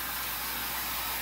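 Hair dryer blowing steadily at close range while grooming a malamute after a bath, a continuous airy whoosh with no break.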